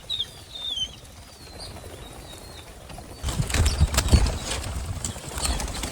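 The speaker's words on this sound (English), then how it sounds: "As you can hear, the birds came in today." Young game bird poults released at a summer shoot flutter and scuffle, with a burst of flapping wings and rustling that grows louder partway through, faint bird calls earlier on.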